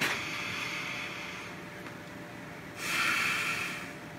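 A long, steady inhale during a breathing exercise, a broad airy rush that sustains for a few seconds, drops off briefly, then swells louder again near the end, close to the microphone with no talking.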